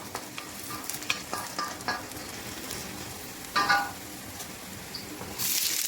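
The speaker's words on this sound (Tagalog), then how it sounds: "Usok na po yung ating kawali. Medyo dumidistansya lang ako ng konti kasi tumatalsik yung kanyang mantika." Olive oil spatters and sizzles in a smoking-hot pan, with a soft, steady frying hiss broken by small pops and a louder burst of crackling near the end.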